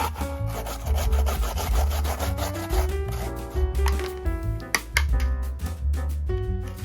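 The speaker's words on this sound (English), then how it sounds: "Meanwhile, grate daikon radish." Daikon radish is rubbed briskly against a grater, making rapid rhythmic rasping strokes close by, with no talk.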